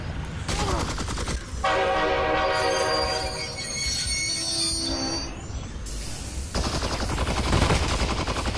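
A locomotive in Half-Life: Alyx pulls out, its loud, sustained horn blaring over rumbling, rattling rail noise, with the wheels squealing as the train departs.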